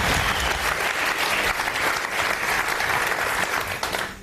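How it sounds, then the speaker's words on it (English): A television studio audience on a 2006 game show cheers and applauds loudly and steadily, a dense wash of clapping and whoops lasting about four seconds. "Come on, folks, let's give you a good cheer."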